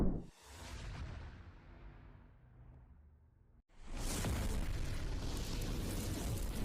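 An atomic bomb explosion: a rushing whoosh and rumble fades, then after a brief dropout a massive roaring blast erupts and holds as a loud, sustained broadband roar.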